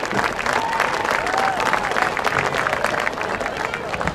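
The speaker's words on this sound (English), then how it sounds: "Please give a round of applause to Ethan Radke." Applause for Ethan Radke, a senior team manager honored at a Wake Forest versus Maryland game, with dense crowd clapping and cheering under a speaking voice at moderate loudness.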